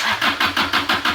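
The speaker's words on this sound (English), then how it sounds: "we're gonna crank her till we got fuel in all 4," Junkyard Kubota diesel engine cranking over with the starter in a steady rhythm of about six loud, even compression pulses, churning close up without yet catching.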